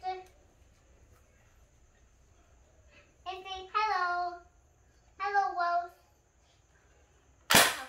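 A big toy gun fires once near the end, a sharp loud snap after a stretch of quiet, with a child and an adult talking briefly beforehand.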